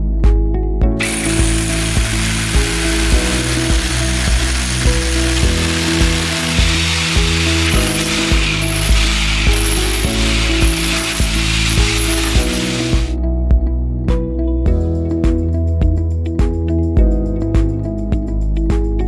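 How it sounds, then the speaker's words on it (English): A rotary hammer drill with a nylon shell and rubber-coated handle runs in long continuous bursts, a loud, steady mechanical whir with rhythmic hammering pulses, briefly stopping and restarting with no one talking. "Rotary Hammer."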